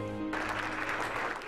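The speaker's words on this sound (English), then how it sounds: "The sound of applause filled a banquet hall at the Cosmopolitan Hotel Saturday" Applause from a crowd at a gala in a hotel banquet hall, a dense steady wash of clapping that starts abruptly after a brief tonal intro and holds at even loudness.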